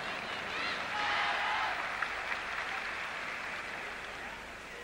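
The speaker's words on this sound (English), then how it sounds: "The applause in the background is because Xu Ziqiang has just gone on to the podium to start chalking up." A crowd at the 1986 men's World Cup gymnastics apparatus finals applauds as a gymnast mounts the podium. The clapping is faint and distant, a soft, steady wash that swells and then fades.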